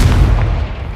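Confringo spell blast in a Harry Potter video game, a single loud, deep explosive boom with a rumbling low-end that quickly tails off, heard alone.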